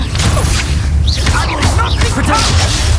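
A Stupefy spell cast in Hogwarts Legacy, a booming whoosh and impact burst layered over game music and combat noise, loud and dense with several swishing magical effects.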